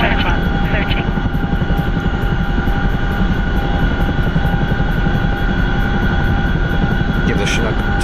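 A Chinook helicopter in a video game gives a loud, continuous rotor thump and engine whine, with a rapid steady beat through the whole stretch and brief higher noises near the start and end.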